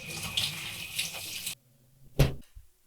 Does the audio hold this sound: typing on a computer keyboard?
no